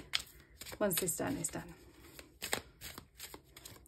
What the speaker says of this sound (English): So I'm actually gonna just shuffle, and then I cut the deck